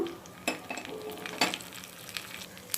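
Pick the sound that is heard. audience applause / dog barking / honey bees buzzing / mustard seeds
mustard seeds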